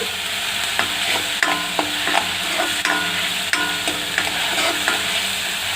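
Ginger, garlic and spices fry in a pan for arbi leaf kadhi, a loud close sizzle with regular scraping strokes of a spatula, no one speaking.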